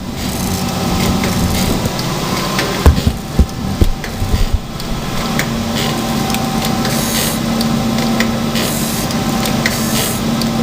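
A grinding wheel sharpening jointer planer knives makes a steady, loud grinding drone with a constant abrasive hiss throughout, with a few sharp scraping knocks near the start.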